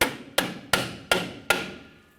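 Four sharp metallic hammer blows on a rusted drum brake adjuster of a 1994-2004 Chevrolet S10, evenly spaced about a second apart, each ringing briefly before the next strike; close and loud, no talking.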